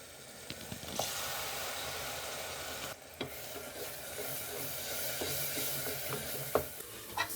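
Masala being fried with yogurt in a pan for aloo gosht: a soft continuous sizzle with a brief dip midway, scattered spoon scrapes and a few sharper clinks, close but fairly quiet.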